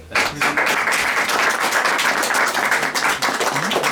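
Sustained applause from a lecture audience in Oakville, Ontario, Canada, dense steady clapping that fills the whole stretch at an even loudness.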